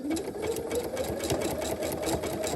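A sewing machine stitches a zigzag in a steady, fast mechanical whir with regular needle ticks, close and alone.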